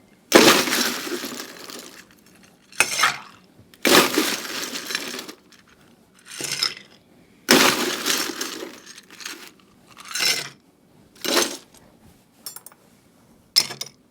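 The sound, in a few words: coupe glasses being iced for a whisky maple cocktail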